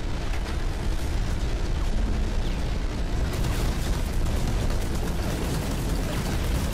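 Continuous heavy rumbling blasts and crackling bursts from the video game Hawken fill the whole stretch, loud and dense, with no pauses between them.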